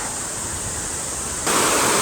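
A waterfall in a Japanese forest roars as a constant broadband rush that swells noticeably louder about two-thirds of the way through.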